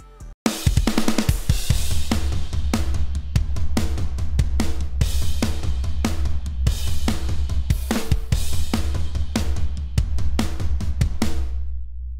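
Second-verse metal drums programmed in FL Studio, now with added toms, pound continuously and densely with rapid kicks, cymbal hits and driving rhythm, loud and alone throughout.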